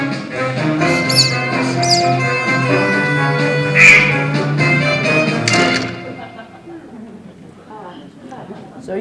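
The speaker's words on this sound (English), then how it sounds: "A duck can be a pesky creature." A duck quacks in short, nasal bursts, with speech and other sounds mixed in before it fades to quieter noise.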